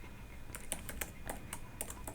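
Quiet keystrokes on a computer keyboard while typing an SQL insert query for a MySQL database in PHP: irregular, light clicks spaced a fraction of a second apart, close and alone.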